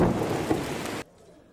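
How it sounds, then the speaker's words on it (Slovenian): Loud distant thunder rumbles over steady rain, a dense roaring burst that cuts off abruptly to near silence after about a second. "V daljavi sem zaslišal glasen grom"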